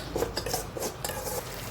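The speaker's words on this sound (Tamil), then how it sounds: "நல்லா மிக்ஸ் பண்ணி விடுங்க" A utensil scrapes and clinks against a pan while veg kothu parotta ingredients are stirred together, a few quick rubbing strokes heard close up.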